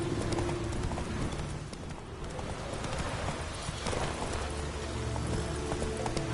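Roach, a horse in The Witcher 3 video game, gallops at a steady quick clip-clop rhythm, hoofbeats close and continuous over ambient game music and background sound, with no talk.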